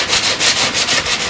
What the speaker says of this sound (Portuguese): eu vou fazer um pré-lixamento, que é para tirar essas farpinhas